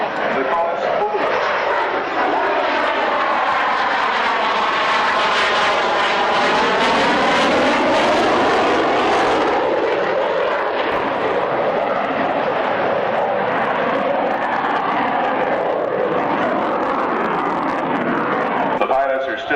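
Aircraft engine at an airshow during a slow-speed approach pass, a loud continuous roar with shifting Doppler-like tonal sweeps as it passes overhead, with crowd and announcer talk faintly underneath.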